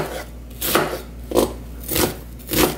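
A knife coarsely chops half a small onion on a board for a scallop party finger food: four crisp, evenly spaced strikes, close and clear, with quiet gaps between.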